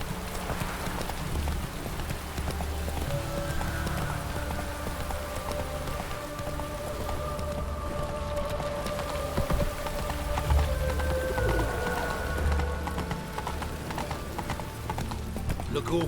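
Roach the horse from The Witcher 3 gallops at a steady running clip-clop, hooves drumming continuously and close under game ambience and a low musical drone, with a voice speaking briefly.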